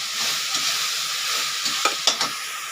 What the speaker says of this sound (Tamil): இப்போ இதை சோயா சாஸ் போட்டு பரட்டிடலாங்க.